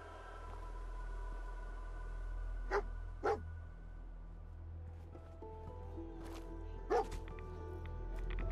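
A dog in Fallout 4 gives a few separate sharp barks over a low droning ambient game background, with sparse faint voice.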